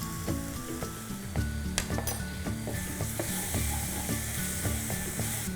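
Baby corn with ginger and soy sauce sizzles steadily in a hot pan while being stirred, with repeated scraping strokes and occasional utensil clinks against the pan, close and continuous without any talking.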